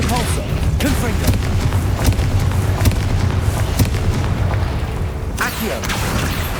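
Repeated Confringo spell blasts from the video game Hogwarts Legacy, a steady series of booming magical explosions and sharp bursts across the clip, with game effects and a voice speaking throughout.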